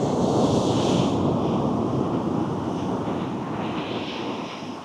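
Sea waves wash against a rocky shore in a continuous, loud, broad roar, heavily mixed with buffeting wind rumble that eases slightly toward the end.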